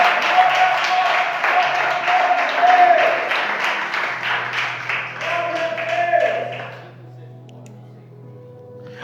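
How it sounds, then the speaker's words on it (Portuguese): A church congregation claps along in steady applause over sustained music for several seconds, then the clapping stops abruptly and only soft lingering tones remain. "Você pode exaltar Jesus, você pode aplaudir Jesus"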